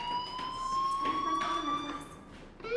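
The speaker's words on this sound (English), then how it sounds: "do you hear that fire alarm?" A fire alarm sounds steadily through the scene, a continuous electronic tone with harmonics held throughout, fairly loud and without voices.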